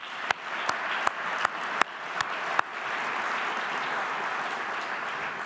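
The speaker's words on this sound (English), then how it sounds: "how about another round of applause for him?" Audience applause at a German-American conference builds from a few sharp, separate claps into a steady, moderately loud round of clapping from the crowd.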